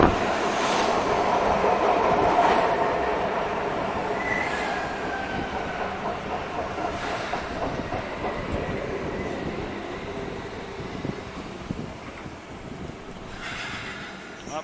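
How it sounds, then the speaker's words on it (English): An eastbound PATCO commuter train at Collingswood station rumbles steadily past on the platform side, with wheel clatter, faint squeals and a high whine, loud and close throughout. "eastbound PATCO train at Collingswood."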